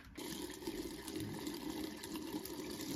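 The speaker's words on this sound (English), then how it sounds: "Open sink downstairs." Water gushes steadily from a sink tap after lead-to-copper pipe replacement, a continuous close rushing flow that starts abruptly and carries on without talk.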